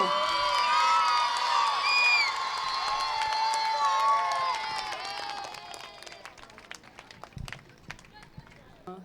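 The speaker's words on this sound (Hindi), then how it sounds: "जोरदार तालियां बच्चों।" Schoolchildren clap and cheer at a school platinum jubilee celebration, a dense burst of applause with shouts and whoops at first, thinning to scattered claps and children's voices as it fades.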